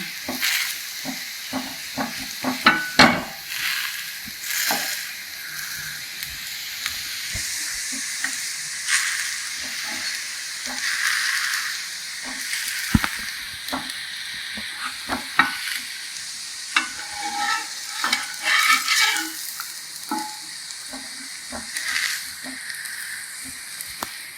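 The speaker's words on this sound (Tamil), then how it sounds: "இது வந்து நம்ம நல்லா தோசை திருப்பி வச்சுக்கிட்டு இப்படி நல்லா அப்படியே அழுத்தி விட்டோம்னா தான் நல்லா சீக்கிரமாக வெந்துடும்." Ragi dough pressed flat with a dosa turner as it cooks on a hot pan, giving a steady sizzle broken by repeated scraping and tapping strokes, close and fairly loud with no talk.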